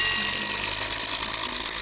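A FastenMaster ThruLok bolt is driven into a notched deck post with no pre-drilling, producing a loud, steady power-tool whir and grind that runs unbroken throughout.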